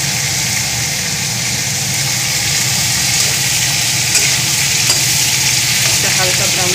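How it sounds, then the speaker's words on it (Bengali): Capsicum for chili chicken stir-fries in a hot pan over a raised gas flame, producing a loud, continuous, close sizzle with faint scraping from stirring throughout. "একটা হালকা ব্রাউন করে একটু ভেজে নেব"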